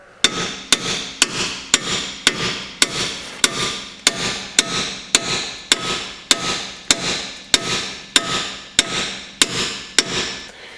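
A hammer strikes a car suspension knuckle on a VW Polo Mk5 during a front shock replacement, about twenty sharp metallic blows in a steady, evenly spaced rhythm, loud and close with no talk.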